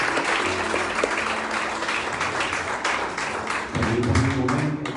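A church congregation breaks into sustained, loud applause, steady clapping filling the room throughout with a low murmur beneath it.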